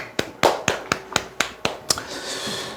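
Eight or nine sharp, evenly spaced claps in a quick rhythm, close by, followed by a brief softer rustle as they stop.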